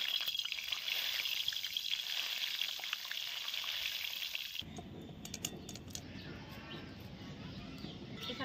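Curry leaves fry in hot oil with a steady, dense hiss that shifts abruptly to a rougher, lower crackle about halfway through, with no one talking.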